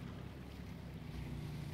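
A boat engine in The Walking Dead: Michonne video game runs as a steady low droning rumble, with a constant hum and wash of wind and water noise, no talk.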